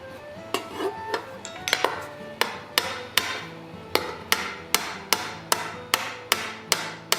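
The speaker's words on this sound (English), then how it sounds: "the hammer is hitting beside the stake, not on the stake" A hammer strikes brass sheet beside a steel stake while forming a repoussé wolf head, about fifteen sharp metallic taps in a steady, quickening rhythm, close and clear with no talking.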